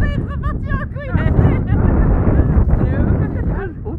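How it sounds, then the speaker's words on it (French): Strong wind roars and buffets a microphone outdoors in Iceland, a loud continuous rumble with gusts, while a person talks through it. "Honnêtement, il y a tellement de vent, c'est pas possible."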